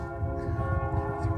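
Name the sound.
church bells ringing in France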